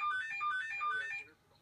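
A phone rings with a bright electronic melodic ringtone in a hospital procedure room, playing a quick repeating pattern of tones for over a second before cutting off, fairly clear over quiet background noise.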